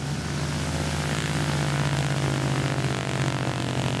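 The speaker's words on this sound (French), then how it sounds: "car décoller ici, c'est délicat" Propeller airplane revving hard for takeoff from a rough bush airstrip, a loud steady engine drone with a strong low hum and broad roar held throughout.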